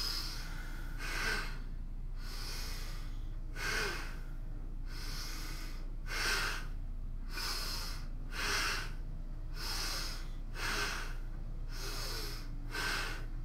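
Forceful nasal breathing as a yoga exercise, heard alone: about eleven rhythmic, airy bursts, each roughly a second apart, loud and close.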